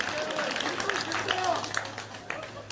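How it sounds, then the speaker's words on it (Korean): A crowd at a political speech gives light, uneven applause with scattered claps, while voices and murmuring carry on over it. "아, 부담 없이 박수 치세요"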